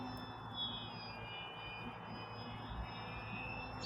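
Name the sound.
XFLY Tasman RC airplane flying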